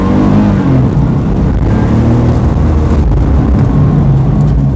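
A car engine revs loudly up toward 6,000 RPM during a track practice session, its roar rising and falling with throttle as the turbo spools, close and dominant with no talk.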